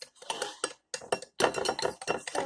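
Eggs being whisked in a bowl, a rapid run of clinking and scraping strokes in bursts with short pauses between them, close and fairly loud, with no talking.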